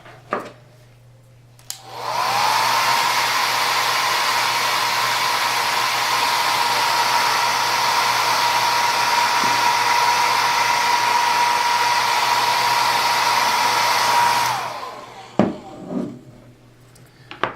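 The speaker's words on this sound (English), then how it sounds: "I'm going to hit it with the hair dryer real quick." A hair dryer blows steadily for about twelve seconds, drying paint on a carved wooden Uncle Sam bolo tie, a loud close whine with a constant tone that switches on and off sharply, with faint handling knocks afterward.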